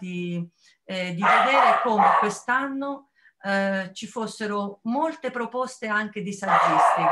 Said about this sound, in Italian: Questo è il mio cane che sta facendo questo rumore.